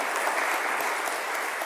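An audience applauds during a Mass homily in church, a brief, dense, steady clatter of many hands clapping without any voices.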